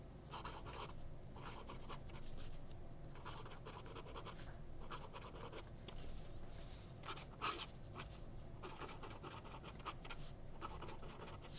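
A vintage Waterman fountain pen with a flexible nib scratches across paper in short repeated strokes, soft and close with small gaps between them.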